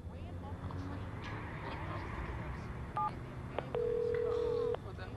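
Telephone keypad tones dialing in Watch Dogs Bad Blood, a couple of short beeps followed by a longer steady tone, heard over a continuous low game ambience.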